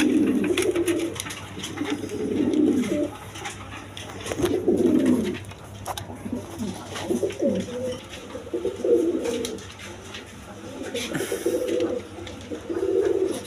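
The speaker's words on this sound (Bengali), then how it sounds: "এখানে এক পেয়ার বোম্বাই কবুতর আছে, রানিং পেয়ার" A pair of Bombay pigeons coos in repeated low, rolling phrases, one bout after another, close by, with no speech over them.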